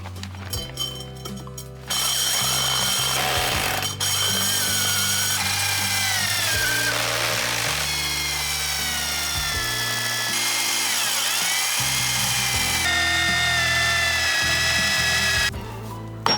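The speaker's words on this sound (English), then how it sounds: "This hole was an absolute nightmare to drill through." A power drill whines loudly and continuously into a hard patio slab, its pitch wavering under strain, starting and stopping abruptly.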